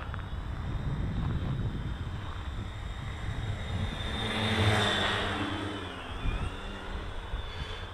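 A TBS Discovery quadcopter drone on a 6S battery whines overhead with a high, steady motor tone that swells louder as it passes near, then dips and wavers, over a rumbling wind-buffeted background.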